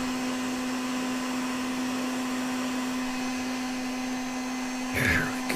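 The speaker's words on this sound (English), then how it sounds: "my heat gun's trying to run away on me here" A heat gun warming PVC pipe gives off a constant, even electric whir and blowing hiss throughout, with a short rustle of handling near the end.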